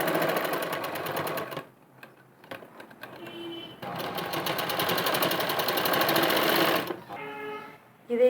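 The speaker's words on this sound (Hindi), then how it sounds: "इसको सीधा करने के बाद हमें यहाँ पे सिलाई लगानी है।" Sewing machine stitching a little girl's Patiala kurti suit, its rapid needle clatter running in two long bursts with a brief quiet gap and softer pauses between.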